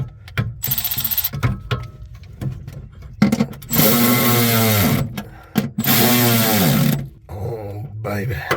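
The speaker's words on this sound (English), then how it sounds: "you're gonna grab your power tool." A handheld power tool snugs down battery fasteners in the back of a drag car, with a few short whirring bursts followed by two long, loud, strained runs, recorded up close.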